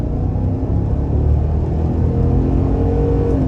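A 2022 Chevy Silverado ZR2 pickup's engine pulls hard under throttle, a loud close low rumbling drone that climbs steadily in pitch as the truck accelerates, with no talking.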